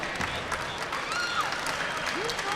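A crowd gives an ovation at a girls high school basketball game, with steady applause and cheering filling the gym as a commentator talks over it.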